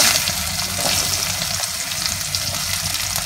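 Chopped onion dropped onto cumin seeds in hot oil for potato masala, frying with a steady, dense sizzle and crackle that holds at an even level and close throughout, with no talk.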